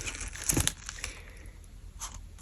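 Handmade paper surprise packets are torn and unwrapped close up, a quick burst of tearing and crinkling followed by softer rustles in a quiet room.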